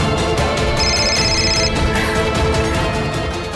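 A telephone rings with an incoming call, a repeating electronic ring heard over a dense, loud dramatic music bed, with no talk during the ring.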